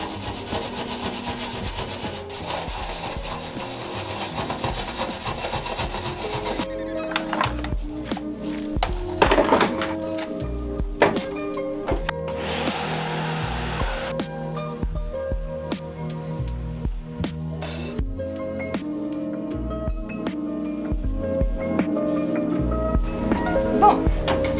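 Rusty floor of a converted van being sanded by hand, a steady close rasping scrape with rhythmic strokes and occasional knocks, continuing throughout with no talk.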